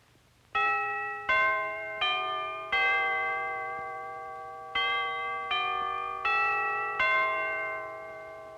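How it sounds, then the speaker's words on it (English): Bell-like chimes ring out a slow, simple melody, one clear note at a time with lingering decay between strikes, no voices. "Let's listen again to the chimes."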